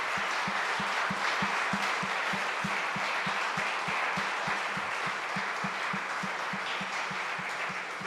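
A church congregation applauds for the Lord, producing a dense, steady wash of clapping that continues throughout, with a regular rhythmic clap pulse running underneath the crowd noise.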